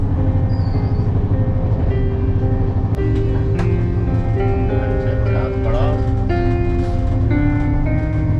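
An Indian Railways first AC coach on the New Delhi to Jhansi run, with rain outside, carries a constant low rumble and droning hum of the moving train inside the cabin, with occasional faint clanks and squeaks.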